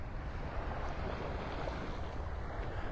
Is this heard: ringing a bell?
no